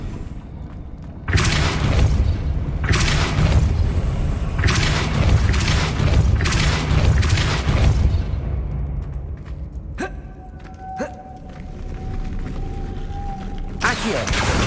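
In Hogwarts Legacy, the Depulso spell fires off as a run of loud, broadband blasts in quick succession, followed by quieter magical chimes and a final burst.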